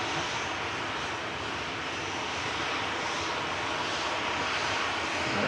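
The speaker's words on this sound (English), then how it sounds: "EasyJet from Paris, land in the background," EasyJet aircraft from Paris landing at Manchester Airport in the background, a steady distant engine rumble and hiss at moderate level, swelling slightly toward the end, with no speech.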